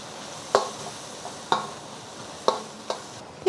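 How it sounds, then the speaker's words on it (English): Onions cooking in a pan for bacon fried rice give a soft, low sizzle, broken by four sharp spatula taps spaced about a second apart. "And I'm going to add my onions. And cook this for a couple of minutes"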